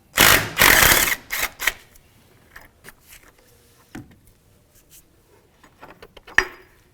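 A socket wrench ratchets loudly in quick bursts as a 12mm bolt on a 2015-2019 Hyundai Sonata battery hold-down clamp is loosened, then trails off into scattered clicks and light metallic handling.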